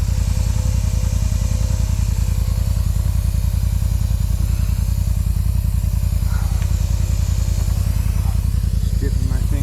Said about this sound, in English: air compressor's rocking